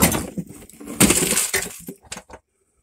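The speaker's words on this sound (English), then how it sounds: "Sounds like you still got quite a bit of change in there." Loose coins rattling and clinking in a Silverado center console, a bright jangling burst of metallic chinks that comes in quick clusters and trails off, close and alone.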